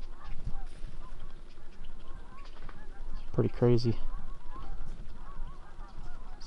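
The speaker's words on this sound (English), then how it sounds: "Got some geese talking off in the distance here." Geese honk off in the distance near a duck blind during an early teal hunt, a short burst of several calls over outdoor ambience while someone speaks briefly.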